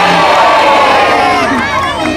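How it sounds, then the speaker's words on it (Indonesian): Crowd at an outdoor political rally cheering and clapping loudly, a dense sustained roar of many voices throughout. "Beri tepuk tangan."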